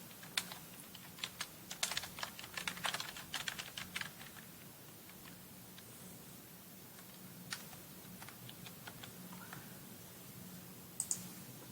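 Quick typing on a computer keyboard to enter a PubMed search, bursts of crisp key clicks in the first seconds, then sparser taps and a few final clicks, close and fairly quiet with no talking.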